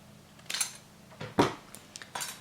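Metal edging cut in half, a few short crisp metallic snips and clinks spaced apart over a quiet background, close and faint, no talk.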